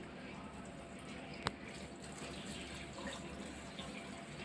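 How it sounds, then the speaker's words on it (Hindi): Tap water runs quietly in a steady, faint stream while hair is rinsed, with one sharp knock partway through. "पानी से जस्ट रिंस कर देना है"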